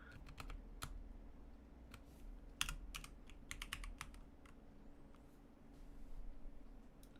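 Irregular keystrokes clatter on a computer keyboard, close and fairly quiet, in scattered bursts with brief pauses between them.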